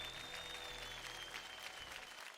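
A studio audience on a televised dance competition claps in steady, even applause, dense and sustained over a low background hum, fairly faint overall.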